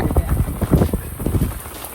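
Rain falls steadily at a camping and fishing site, a dense close patter of drops on surfaces that holds for the full two seconds with no voices.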